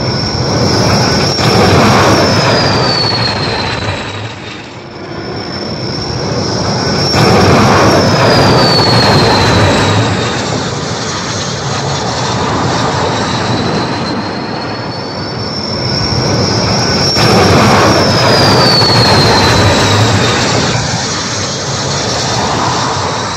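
US Navy A-4D Skyhawk jets landing on the aircraft carrier USS Shangri-La: loud, sustained jet roar swelling in three waves, each with a high descending whine as an aircraft passes close, with no talk.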